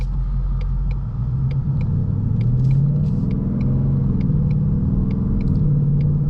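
Engine of a new Ford Mustang GT pulling away from a green light in sport mode, a steady loud low rumble from inside the car that builds smoothly with faint rhythmic ticks above it, no voices.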